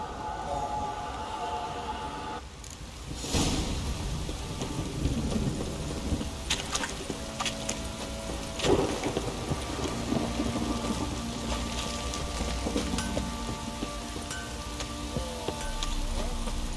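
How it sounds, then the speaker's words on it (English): Thunderstorm in the video game The Witcher 3: Wild Hunt, heavy rain hissing steadily on surfaces with a loud thunder crack a few seconds in and rolling rumbles after it, fairly quiet overall. "This downpour's a bastard, it is."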